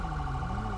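An ambulance siren responding code 3 in GTA 5, a steady wailing tone, fairly loud, heard alone in a brief snippet.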